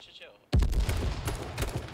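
A sniper rifle fires in the video game H1Z1 King of the Kill: one abrupt, loud crack breaks a near-silence, followed by rumbling echo and further gunfire, with voices in the mix.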